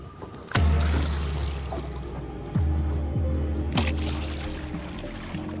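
Water is slapped and splashed at a river's edge to mimic a large crocodile moving quickly through water. Four sharp splashes land a second or two apart, each followed by a short churning wash, fairly close.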